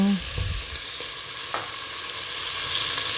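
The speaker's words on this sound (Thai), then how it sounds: "ข้าหยอดน้ำลงไปนิดนึง" A little water drizzled into a hot frying pan hisses into a steady sizzle, with a few soft stirring clatters close by.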